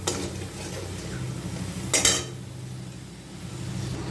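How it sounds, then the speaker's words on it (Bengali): Onion and garlic paste frying in oil in a pan, a soft steady sizzle with a spoon scraping and stirring, and a sharp metallic clank of utensil on the pan near the middle. "এই যে পেঁয়াজ আর রসুনটা একটু ভেজে নিই"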